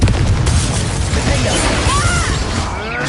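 A Confringo blasting spell explodes in Hogwarts Legacy, a loud, broad roaring blast that stays dense and near for about three seconds, with faint whooshing sweeps running through it and no talk.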